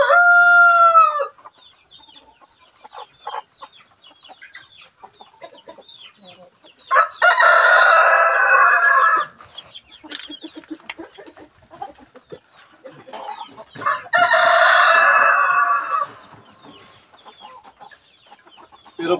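A native rooster crows loudly several times, with long clear calls spaced apart and quiet clucking and rustling between them.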